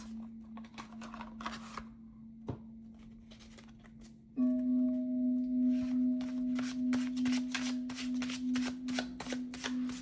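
Tarot affirmation cards shuffled by hand, giving a soft riffling flutter in quick irregular bursts over a steady background tone that grows louder midway.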